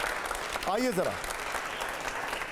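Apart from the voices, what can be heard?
loud applause from audience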